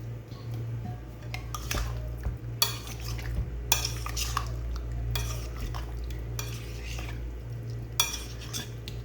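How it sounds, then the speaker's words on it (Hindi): Chicken tikka marinade with lemon juice being mixed in a bowl, with repeated wet squelches and sharp clinks of the utensil against the dish over a low steady hum, close and clear. "इनको अच्छी तरह मिक्स करूँगी।"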